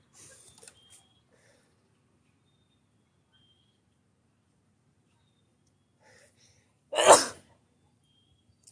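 A single sharp sneeze bursts out loudly after several seconds of near silence, with faint breathy sounds beforehand.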